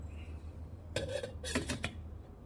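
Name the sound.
stirring cauliflower pulao with salt in a pot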